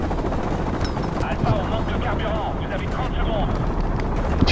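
Helicopter rotor in Call of Duty Modern Warfare, set in Pripyat, a steady loud droning chop filling the whole clip amid bursts of gunfire and battle noise, with people talking over it.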